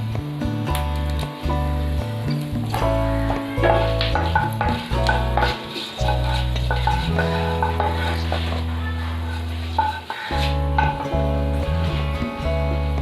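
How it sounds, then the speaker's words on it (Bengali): Bay leaves and a dried red chilli sizzle and crackle in hot oil in a kadai, a steady frying hiss with stirring under prominent background music. "একটু তেজপাতা দিয়ে দিলাম দুটো দিয়ে দিলাম একটা শুকনো লঙ্কা ফাটিয়ে দিয়ে দিলাম"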